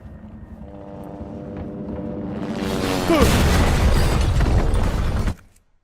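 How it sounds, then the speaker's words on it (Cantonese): A low, steady helicopter rotor drone in the video game Resident Evil 2 builds gradually, then a loud crashing burst of noise takes over before cutting off abruptly. "哦，直升機聲嘅呢度。"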